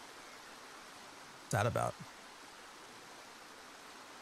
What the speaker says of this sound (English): Definitely like being able to hear the waterfall.